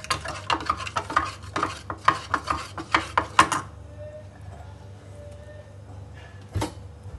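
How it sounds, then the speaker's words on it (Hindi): A spoon stirs lemon juice into homemade sharbat in a glass, making a quick run of rhythmic clinks that stops abruptly, followed by a single tap a few seconds later. "आप नींबू अपने हिसाब से डाल सकते हैं, मैं एक नींबू इसमें डाल रही हूँ। इसको मिक्स कर लेंगे।"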